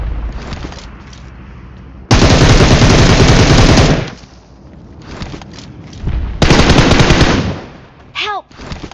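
Bursts of automatic gunfire from a mobile shooting video game, two long loud barrages of rapid shots separated by quieter stretches of lighter firing, played through a phone speaker, with a short ringing effect near the end.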